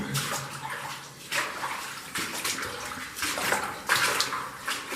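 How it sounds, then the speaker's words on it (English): Water runs steadily from a tap inside an old mine on the Douglas Vein, a continuous hissing splash that swells and eases over five seconds with no voices. "It's got a water tap on it."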